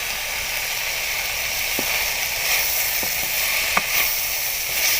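Macaroni sauce with chili flakes sizzles steadily in a pan, a close, continuous hiss with a few faint clicks and stirring touches, no talking.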